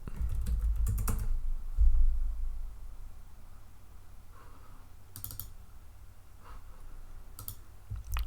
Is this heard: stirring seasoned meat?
no